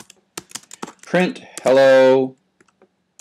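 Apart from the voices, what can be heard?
typing on a computer keyboard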